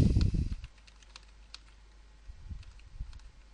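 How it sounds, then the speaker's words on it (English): Computer keys are tapped during video editing, with scattered light clicks at moderate volume after a brief thump at the start. "Okay, so now you're using the arrow keys."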